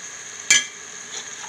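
Garam masala paste hitting a hot pan gives one sharp sizzling burst with a stirring scrape, then fading to a low steady crackle of frying, close and alone.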